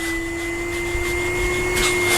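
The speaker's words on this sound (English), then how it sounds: "So I found a vacuum cleaner" A vacuum cleaner runs steadily under the bonnet of a Peugeot Partner or Citroen Berlingo van, clearing mould with a loud, continuous whine and a steady motor tone.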